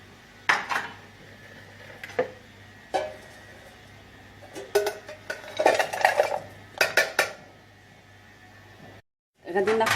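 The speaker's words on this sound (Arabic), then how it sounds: "اول حاجه غادي ندير هي هاد الزبده والشوكولات يذوبوا في حمام مريم" Butter and dark chocolate melted in a bain-marie for brownies, with intermittent clinks of a utensil against a metal pan and bowl and soft scraping, while someone talks over it.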